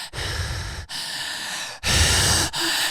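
A human voice imitates heavy breathing, with several long, loud, breathy exhalations and sighs in a row, separated by short pauses.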